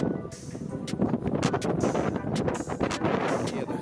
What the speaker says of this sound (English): the wind, boy